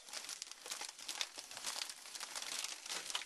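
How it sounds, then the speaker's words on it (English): Crinkly plastic wrapper of a package of Double Stuf Oreos being torn open in a home kitchen while baking brownies, a close, continuous crackling and rustling lasting a few seconds with no talk. "So here we go. Open the double stuff."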